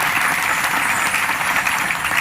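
Sustained crowd applause for the block chairman at a Saura assembly in the Janiguda area, many hands clapping in a thick, continuous patter at steady loud level without any voices.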